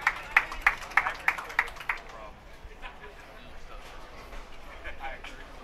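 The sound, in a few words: audience hand clapping at bowling championship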